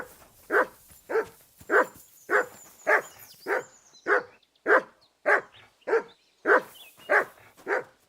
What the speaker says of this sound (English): What's he barking on?